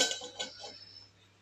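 Metal lid set onto a kadai of eggs boiling in salted water, giving a few quick clinks and clatters in the first second that fade into quiet kitchen hum.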